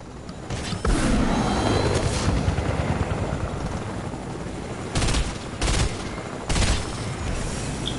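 Gunfire bursts from a Fortnite match on PS4, several sharp broadband volleys clustered near the start and again later over a steady rumbling game ambience, fairly loud and close.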